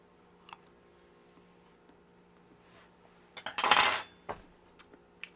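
A spoon clinks in a pan of strawberry hibiscus curd as butter is stirred in: scattered light taps, then one louder clattering burst of a second or so, close and quiet otherwise.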